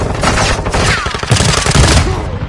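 Sustained volleys of Call of Duty gunfire, loud overlapping shots and bursts continuing throughout, with heavier impacts midway through the exchange.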